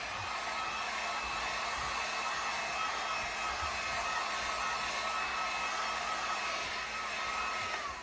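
A hair dryer runs steadily and continuously for about eight seconds, drying the color layer of a DTF print with a constant broadband whoosh and a faint tonal whine, no voices.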